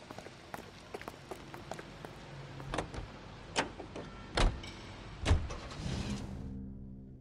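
Car driving in the L.A. Noire video game, a faint low engine hum under scattered sharp thumps and clicks, with a few louder knocks late on and a soft whir near the end.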